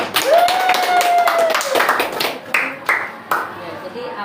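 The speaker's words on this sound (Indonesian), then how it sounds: "kita tepuk tangan dulu" A class of ninth-grade students claps hands together in a school classroom, a short burst of scattered claps close by, mixed with voices and chatter.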